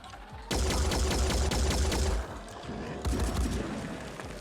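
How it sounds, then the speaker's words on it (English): Enemy cannons fire in the strategy game Phoenix Point as a rapid burst of booming shots in quick rhythm. A second, briefer volley follows after a short pause. "I don't mind about their dinky cannons going off."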